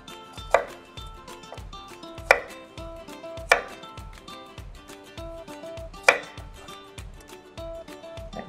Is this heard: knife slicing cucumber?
yes